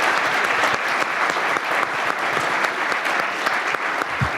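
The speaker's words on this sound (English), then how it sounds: "I just want to give one more big round of applause to our panelists" An audience at a nonprofit leaders' breakfast panel claps for the panelists, loud dense applause from a full room, steady for several seconds without voices.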